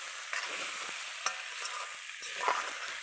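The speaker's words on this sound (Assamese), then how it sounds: "কঁঠালখিনি আৰু আলুৱে বইল দিছিলোঁ ধুনীয়াকৈ মই লৰাই দিম" Jackfruit and potato curry is stirred in a pan, a soft continuous sizzle with a few scraping clicks of the spoon, close and quiet, no speech.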